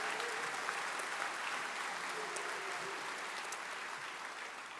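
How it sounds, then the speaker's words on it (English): Graduation ceremony audience giving a sustained round of applause, a dense continuous crowd clapping that holds steady and fairly distant, with a faint voice now and then underneath. "Can you all give yourselves a massive round of applause?"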